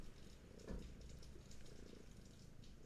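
A cat purring softly and close, a quiet low rumbling rhythm that continues with no talking over it.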